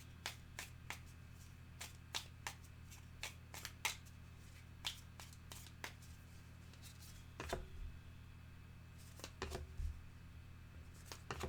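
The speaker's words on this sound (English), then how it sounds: "Shuffle, shuffle, shuffle." Cardboard and wooden game pieces for the Parks board game shuffled by hand on a tabletop, a quiet run of soft sliding and clicking with sharper clacks spaced through, a little louder near the end.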